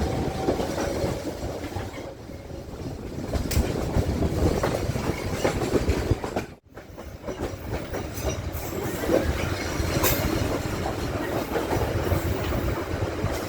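KA Commuter Supas commuter train running on the rails toward Surabaya Kota, a steady loud rumble with clickety-clack and occasional wheel squeal, heard from inside the carriage.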